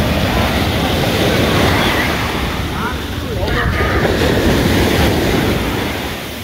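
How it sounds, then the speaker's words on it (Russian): Rough, warm sea churning onto a resort beach, a loud continuous roar of surf that swells and eases in broad surges, with wind buffeting the microphone. "Море как бушует теплое,"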